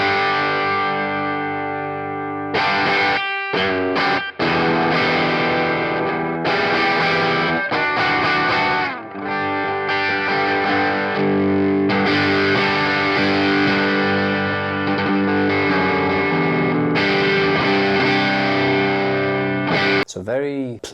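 Electric guitar through a Fengzai Dumbloid drive pedal, a budget clone, giving a low-to-medium gain amp-like tone; sustained distorted chords and phrases ring out loudly with brief pauses between strums, no talking over them.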